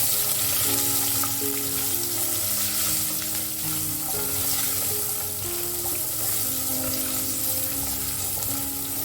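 Steady sizzling and crackling of about 20 whole shallots frying in hot oil with asafoetida, continuous and close, with faint background tones and no talking.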